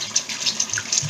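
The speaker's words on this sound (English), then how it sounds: "I'll put little water and cover it" Water pouring into a cooking pot of Kashmiri dum, a short, uneven trickling splash with small bubbly gurgles, close and alone.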